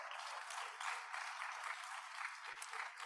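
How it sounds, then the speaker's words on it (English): Steady applause from an audience at a debate event, with dense clapping that holds evenly for a few seconds. "Let's give him a round of applause."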